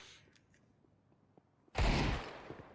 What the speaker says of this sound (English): Oh, pistol starting to pop off